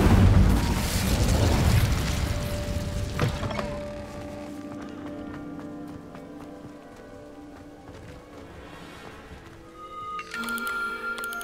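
A fire spell bursts in Hogwarts Legacy with a loud rushing whoosh that fades into a lingering crackle and hum, then a brighter magical shimmer returns near the end.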